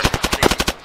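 A machine gun fires in a sustained automatic burst in ARMA 3, about eight evenly spaced, punchy shots in under a second, loud and close.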